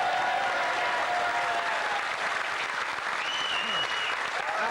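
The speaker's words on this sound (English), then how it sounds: "give yourselves a round of applause for joining us for the show" A comedy-show crowd in a Newcastle venue breaks into sustained applause, a thick even roar of clapping that holds at full strength from start to finish.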